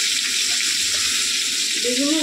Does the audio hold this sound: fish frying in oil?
yes